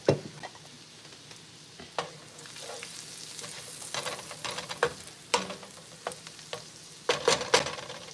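Avocado oil sizzles and crackles in a hot pan, with scattered pops and spits over a soft steady hiss.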